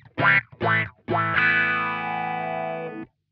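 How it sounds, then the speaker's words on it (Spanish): Guitar through an Earthquaker Devices Spatial Delivery envelope filter pedal with the sweep at maximum, giving a few short plucked notes and then a long sustained chord with a pronounced filter sweep and harsh clipping, loud and alone. "ahora te lo puse al máximo. Es como que el barrido es mucho más pronunciado y por ahí te genera algo de clipping que no está bueno"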